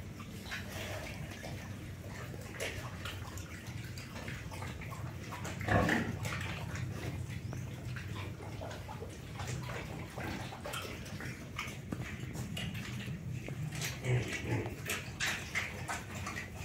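Newly bought pigs on a farm grunting and snuffling at close range with steady background noise, one louder squeal-like burst midway and scattered rustling throughout.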